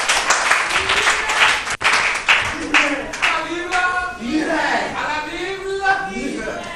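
A studio audience at a televised quiz game applauds and cheers a contestant: dense, steady clapping at moderate loudness, soon overlaid by someone talking as the applause carries on beneath.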